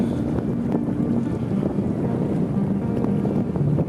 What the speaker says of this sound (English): As you might expect, the wind is coming straight up the Sound of Mull.